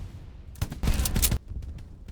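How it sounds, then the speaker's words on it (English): A trench gun shotgun fires in the Hell Let Loose video game, a short burst of loud blasts and cracks packed into about a second, followed by quieter trailing reports. "I actually scored a headshot just shooting straight into the bushes"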